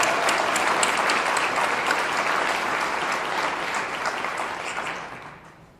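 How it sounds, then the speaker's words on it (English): Loud, dense applause from the audience at a STEM educator awards ceremony, a full roar of clapping that stays strong and then gradually fades toward the end. "So everybody, give a round of applause to all our applicants."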